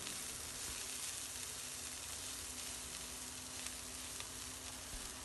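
Shredded chicken, cabbage and capsicum for a samosa filling stir-fry in a pan, giving a faint, even sizzle with light stirring and no speech.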